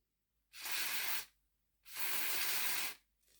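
Two short hissing bursts of aerosol spray, close and loud with a brief pause between them, are aimed at the motor of a Wrenn A4 Class Mallard model train during repair, with a faint start of a third at the end.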